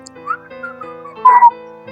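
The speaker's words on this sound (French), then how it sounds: "Whistle, ça veut dire quoi? C'est lorsque quelqu'un est en train de siffler." A person whistles a short, clear phrase, a few thin tones near and fairly loud, ending in a brighter, sharper burst against a quiet steady hum.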